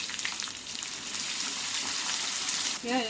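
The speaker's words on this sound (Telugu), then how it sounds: "ఎర్రగా అయ్యేదాకా వేపుకుందాం" Chopped onions fry in hot oil with cinnamon, cardamom, cloves and a bay leaf, a dense, even sizzle that carries on steadily until a brief voice cuts in at the very end.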